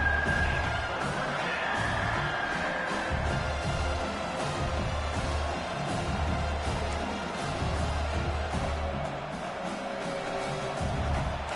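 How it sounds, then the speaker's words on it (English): A crowd roars in a vibrating stadium at a playoff football game, a dense, sustained wash of noise heard from within the stands, steady throughout with faint cheers rising from it. "listen to this crowd noise. This stadium is vibrating."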